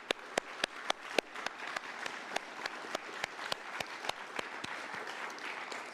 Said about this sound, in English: Let's have a round of applause for our candidates.